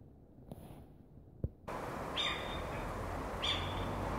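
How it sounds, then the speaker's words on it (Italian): A little owl calls twice at night outdoors, two clear, moderately close hoots spaced about a second apart over a quiet background hiss, with a faint knock just before. "Hai sentito la civetta?"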